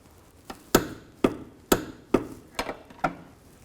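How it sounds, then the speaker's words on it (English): A torque wrench clicks while tightening rear shock bolts on a 2007-16 GMC Acadia, with about seven sharp ratcheting clicks in an uneven rhythm, close up and alone. "Now we'll tighten this. And torque this to 52 foot-pounds."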